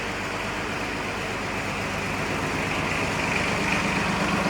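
A Yanmar KE-4 Japanese tractor runs steadily at idle while its two-point hitch raises and lowers, a constant low engine drone with no voices over it.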